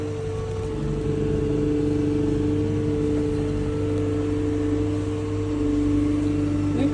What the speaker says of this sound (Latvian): var dzirdēt motoru, bet nav skaļi